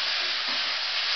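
Mushrooms and vegetables frying in oil in a pan give a steady, dense sizzle and hiss, close and continuous throughout with no speech.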